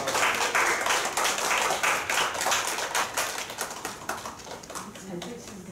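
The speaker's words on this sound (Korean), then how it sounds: "예, 박수 쳐주시기 바랍니다." A church congregation claps at a New Year thanksgiving service, a moderately close burst of applause with distinct individual hand claps that gradually thins and fades toward the end.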